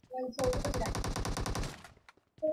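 Rapid automatic gunfire from the battle royale game PUBG rattles loudly in a sustained burst of about a second and a half, preceded by brief game tones and trailing into sparse echoes.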